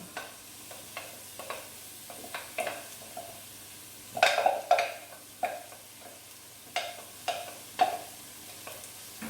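Garlic, onions and carrot sizzle in a pan for tomato and red pepper relish, with a steady frying hiss broken by repeated scraping stir strokes. No one speaks.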